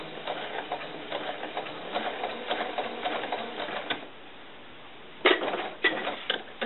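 A sewing machine stitches a doll blouse in rapid, rattling runs, pausing briefly before a fresh burst of stitching resumes.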